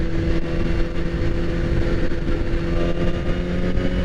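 A 2016 BMW S1000RR motorcycle engine runs loud and steady close by, holding a high droning pitch with small rises and dips in revs and no talk over it.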